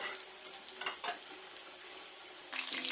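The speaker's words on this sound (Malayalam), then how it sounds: "ആ സമയം നമ്മൾ ചിക്കൻ നന്നായിട്ട് ഫ്രൈ ആയിട്ടുണ്ട്." Chicken frying in a pan for an omelette chicken dosa, with a steady close hiss of sizzling oil and a few soft scrapes of stirring, heard without talk.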